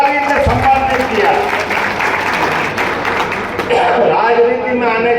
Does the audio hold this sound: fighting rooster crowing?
no